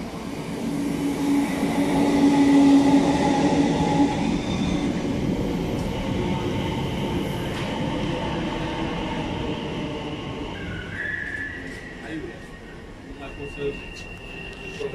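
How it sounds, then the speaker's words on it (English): A Class 321 West Anglia electric train departs Stratford Station, its rumbling motor and wheel noise strongest early then easing as it pulls away, with faint squeals and announcement-like tones near the end. "West Anglia train now departing Stratford Station"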